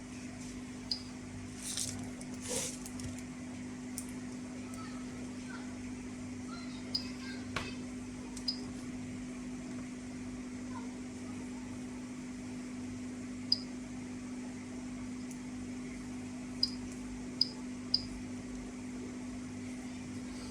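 Sparse, irregular sharp clicks of an SBM-20 tube Geiger counter at natural background level, a few seconds apart, over a steady low electrical hum and faint hiss.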